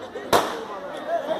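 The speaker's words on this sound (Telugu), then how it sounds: "ఇంకా అందులో బాంబులు ఉంటాయి, ఒక్కొక్కటి కాలిద్ది" A single sharp firecracker bang bursts at a Diwali celebration in Ongole, followed by a brief crackling tail and a low murmur of the outdoor crowd.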